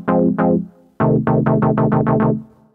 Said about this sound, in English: It's more like a polyphonic synthesizer than an actual pad